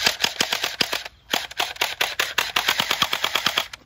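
A toy gel ball blaster fires rapid bursts of sharp, close, loud snapping shots in a fast repeating rhythm, briefly pausing before another long volley.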